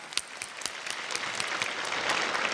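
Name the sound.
congregation applauding in praise of God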